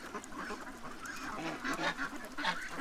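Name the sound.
ducks quacking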